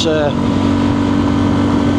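A motorcycle fitted with a mild steel exhaust growls with a loud, steady, throaty engine drone close by, holding a constant note from start to finish.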